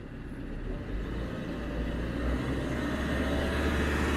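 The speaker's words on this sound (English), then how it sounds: "Bring the revs up." A car engine revs up during a battery charging test with all lights on, a low engine drone that rises gradually and steadily in loudness over a few seconds, heard alone without talk.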